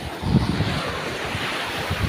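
Heavy sea surf surges in as the tide rises, a steady rushing wash of water with wind noise, fairly close and uninterrupted, with no voices.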